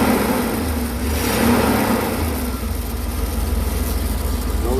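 A van engine idles steadily after a voltage regulator replacement, a constant low mechanical hum and rumble with a faint swell partway through, close and even throughout.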